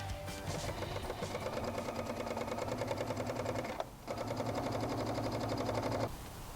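A sewing machine stitches a row along a seam on a top upcycled from a turtleneck, whirring steadily and loud with a brief pause near the middle before running on.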